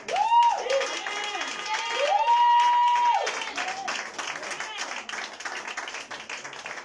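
A church congregation claps and cheers in acclamation during an autority prayer service, a steady wash of hands and voices filling the room for several seconds while sung or shouted voices rise above it.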